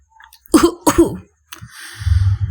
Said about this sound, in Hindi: खांसने का नाटक किया